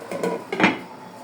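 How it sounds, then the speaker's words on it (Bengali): A short metallic clatter as a lid is set onto a pan of steaming momos, a couple of quick knocks close by, then quiet. "ঢাকনা দিয়ে ঢেকে দিব।"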